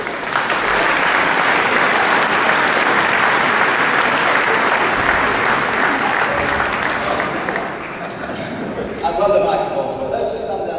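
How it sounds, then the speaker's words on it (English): A school audience at Haslingden High School applauds, a broad, dense wash of clapping from a large crowd that holds steady for several seconds, then thins into scattered claps near the end. "Round of applause, please"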